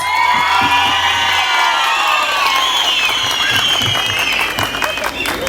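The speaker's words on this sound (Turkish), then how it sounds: "Bir de kendinizi kocaman ıslıkla alkışlar mısınız?" A big concert crowd in Maltepe applauds and whistles loudly for a Turkish folk music singer, with shrill whistles and cheers riding over steady clapping throughout, close and dense.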